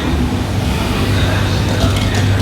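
Train at Venice Mestre station, heard as a steady low rumble and hum with station ambience that fills the background throughout, with no clear individual events standing out.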